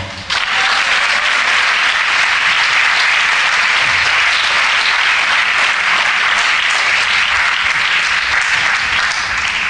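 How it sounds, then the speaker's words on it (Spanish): A church congregation breaks into loud, sustained applause for the Lord, a thick continuous roar of many hands clapping that starts suddenly and holds evenly throughout, with no voices standing out. "Un aplauso al Señor."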